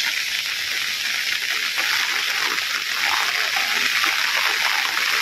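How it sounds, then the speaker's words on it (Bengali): Rain comes down again outdoors by a riverbank: an even, loud wash of falling water with splashy texture, unbroken from start to finish and without any talking. "না আবার আইতেছে দুমছে বৃষ্টি"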